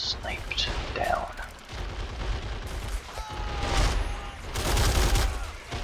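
Battlefield combat in the war video game Men of War: Assault Squad 2, with fusillades of gunfire, sniper rifle shots and booms of artillery rolling steadily throughout, the firing swelling louder toward the end.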